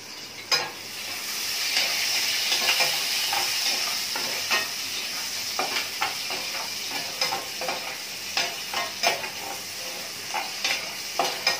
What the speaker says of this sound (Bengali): পেঁয়াজটা ভাজা করে নিচ্ছি